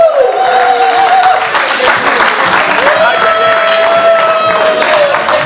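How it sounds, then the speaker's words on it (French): A crowd at a Congolese fashion and couture show in Kinshasa claps in loud, dense, continuous applause throughout, with a long sustained whistle-like tone riding over it. "Mister Dorian, s'il vous plaît, applaudissez."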